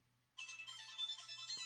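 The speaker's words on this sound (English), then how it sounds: "Y'all excuse my phone ringing." A mobile phone ringtone starts abruptly after a quiet moment, playing a bright, fairly faint melodic ring over a low background hum.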